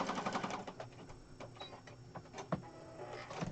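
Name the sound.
sewing machine stitching paper scraps for junk journal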